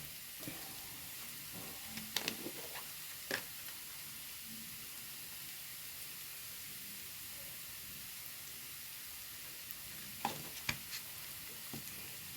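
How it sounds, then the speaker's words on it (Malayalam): Spoon scraping and stirring egg fry masala with garam masala and fresh coriander in a pan, a soft steady sizzle with a few sharp clinks and scrapes scattered near the start and end. "കുറച്ച് മല്ലിയിലും കൂടെ ചേർത്തിട്ട് നമുക്ക് ഇളക്കി കൊടുക്കാം"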